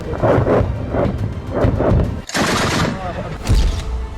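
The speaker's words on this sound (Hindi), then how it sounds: "हमला होते ही अफगानिस्तान की एंटी एयरक्राफ्ट गनें एक्टिव हो गईं और लगातार फायरिंग होती रही।" Anti-aircraft guns firing in Kabul during an air strike: loud, continuous bursts of rapid gunfire with heavy thuds and booms, repeating in waves close by.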